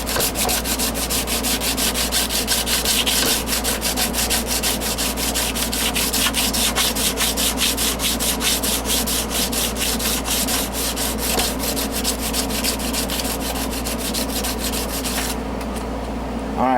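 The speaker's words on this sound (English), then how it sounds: "this is going to get monotonous right here, sanding this" Steady hand sanding of a carved wooden beaver piece, a continuous close rubbing rasp with quick regular back-and-forth strokes that stops shortly before the end, no voices.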